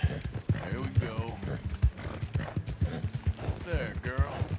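A horse's hooves clip-clop at a steady walking rhythm in Red Dead Redemption 2, close and distinct, while someone keeps talking over the footfalls.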